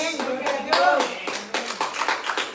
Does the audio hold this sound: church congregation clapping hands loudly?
yes